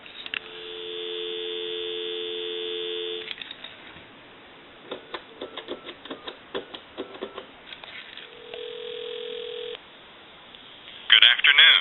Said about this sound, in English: I'll give you some dial tone.